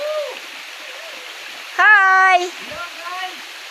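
Water from Kawali Falls, a waterfall at a campsite, rushes in a faint continuous background wash while people talk and call out over it, with one loud shouted greeting.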